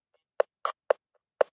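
Drum kit sliced from radio communication audio: four sparse, clipped percussive blips spaced irregularly, tight and dry with brief ghost taps between, alone and fairly quiet.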